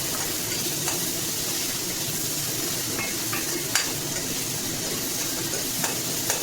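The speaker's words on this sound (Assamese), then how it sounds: "অলপমান ৰঙচুৱা হোৱালৈকে ভাজিম মণিপুৰী পিঁয়াজটো" Manipuri onion fries in a pan with a steady, even sizzle and hiss throughout, close up, broken by a few faint clicks of stirring.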